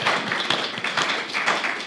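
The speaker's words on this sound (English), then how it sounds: "Give them a round of applause." Audience applause at a live podcast taping: a steady, dense patter of many hands clapping, moderately loud and continuous for a couple of seconds, with no voices.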